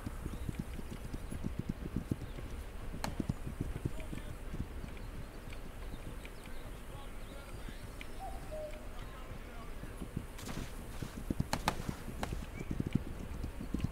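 Horse hooves clip-clopping in the video game This Land Is My Land, a steady stream of light rhythmic hoofbeats running throughout with faint bird calls in the background.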